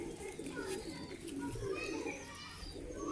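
Pigeons of a pure breed, kept on a rooftop loft, coo softly and repeatedly in the background while someone talks and children can be heard faintly.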